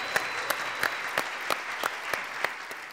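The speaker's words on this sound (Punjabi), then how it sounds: "ਗਿੰਨੀ ਲਈ ਵੀ ਇੱਕ ਵਾਰੀ ਤਾਲੀਆਂ ਬਣ ਗਈਆਂ" Audience applause for Ginni on a Punjabi TV show set, a steady burst of clapping from a studio crowd with a few sharper claps standing out, moderately loud and without talk.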